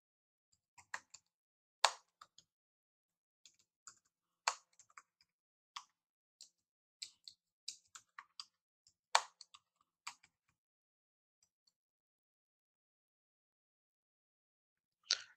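Scattered keystrokes on a computer keyboard while a short description is typed, sharp irregular clicks and taps in a quiet room with long pauses, close and fairly faint.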